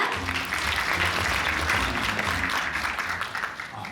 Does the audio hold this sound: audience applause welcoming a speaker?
yes